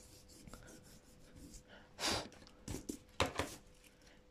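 An eraser rubs out a faint pencil line on an assembly drawing, making a few short, close scrubbing bursts of varying strength with quiet gaps between them, and no one talks.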